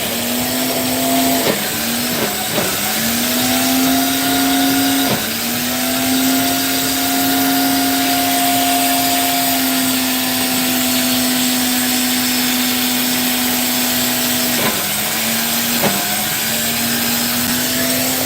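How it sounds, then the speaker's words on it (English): A blender at a street food market stall runs loudly and steadily, its motor whine holding a strong tone that dips briefly several times as the load shifts, with market bustle underneath. "I need a blender like that."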